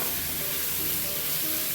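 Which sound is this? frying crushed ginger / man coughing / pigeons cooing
frying crushed ginger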